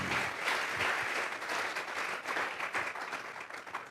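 Church congregation claps as an offering of praise during a sermon, a dense, steady wash of applause from many hands throughout, moderately distant and unbroken.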